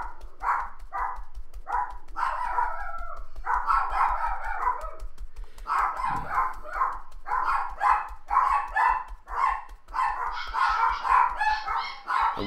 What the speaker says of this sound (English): So there goes my dogs again.